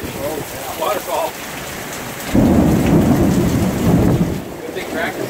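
Heavy rain pours steadily during a sudden thunderstorm in Las Vegas as a deep roll of thunder swells midway and rumbles on, with brief talk early on.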